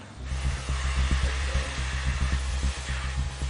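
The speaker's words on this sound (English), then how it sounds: "The sound engineers address every part of the vacuum cleaner that emits noise." A vacuum cleaner runs with a loud, steady, breathy roar and a low mechanical hum, continuous for the whole stretch without talk.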